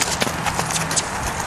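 Hooves of a black Friesian gelding cantering during a ridden session, a steady rhythmic thudding of footfalls under broadband arena noise, close and continuous.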